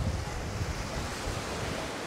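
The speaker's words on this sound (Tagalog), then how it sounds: "Maalon talaga." Rough sea waves wash onto a beach at Lian, Batangas, making a steady, close roar of surf mixed with gusting wind noise throughout, with no voices.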